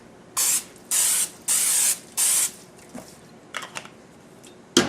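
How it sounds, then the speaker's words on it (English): Four short hissing bursts of non-stick cooking spray onto a springform pan in a steady rhythm, each about half a second, followed by a few faint clicks and a soft tap. "prepare a springform pan by lightly spraying it with non-stick spray"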